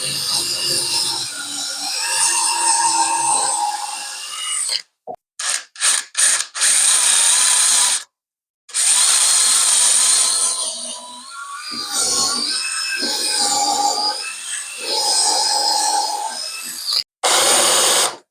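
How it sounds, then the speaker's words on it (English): A power drill drives a screw into pallet wood for an outdoor footstool, its motor whirring in several loud bursts broken by short pauses, close up with no talking. "So we're just going to put one screw into the middle here."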